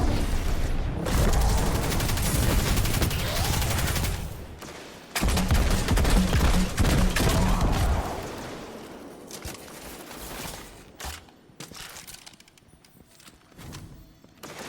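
Sustained submachine gun fire in Destiny 2, dense rapid bursts with explosive booms and mechanical clatter, loud and close, easing into sparser shots and gear noises toward the end.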